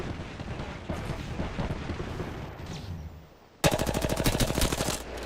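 Automatic gunfire from an Apex Legends match rattles in dense bursts, first a busy mixed barrage of shots and impacts, then after a brief dip a louder, closer rapid stream of evenly spaced rounds.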